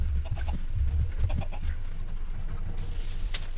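Chickens clucking in the video game Minecraft, a steady low cackling of several birds close by with a few sharper clucks, no talk over it.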